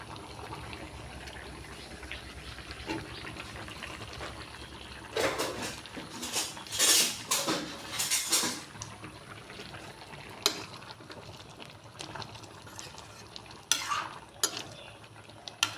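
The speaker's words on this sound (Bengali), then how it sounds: "ঢাকনা তুলে একটু নাড়া দিব" Malabar spinach curry being stirred in a pot, with a steady low simmer broken by several louder scraping, clinking strokes of the spoon in the middle and toward the end; no one talks.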